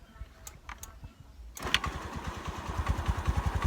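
A small engine catches after quiet fumbling, then settles into a fast, chugging putter that grows steadily louder and rises in pace as it revs, close by.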